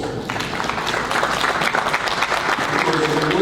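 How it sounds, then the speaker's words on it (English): Soccer players stand and give their parents a round of applause at a boys' county championship awards ceremony, a dense, steady clapping from a crowd in a hall with some voices underneath. "Players, give your parents a round of applause."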